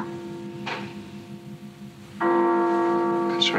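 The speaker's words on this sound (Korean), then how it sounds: "왜 종이 울려?" A bell rings out in a scene from a television broadcast, a steady tonal ring that swells in strongly partway through and holds, with a brief earlier chime and soft background sound, no talk over it.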